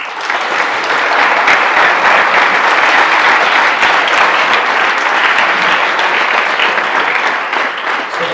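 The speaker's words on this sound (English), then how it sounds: "So, I would like all of you to thank Prabhuji with a big round of applause." A large youth festival audience gives a big, sustained round of applause, dense and even throughout, loud and close with no talking over it.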